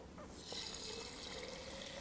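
Water trickles and splashes as it is poured into a jar of sprouting seeds, a steady close liquid stream running throughout.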